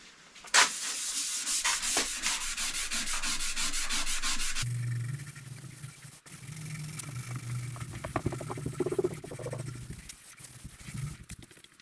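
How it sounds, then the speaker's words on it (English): A green scouring pad soaked with WD-40 scrubs surface rust off the bedways of a lathe. The close, steady scrubbing rasps on for several seconds, then drops into quieter, choppier strokes with some lower rumbling underneath. "To clean the bedways here, I'm just going to use some WD-40 and a green scouring pad."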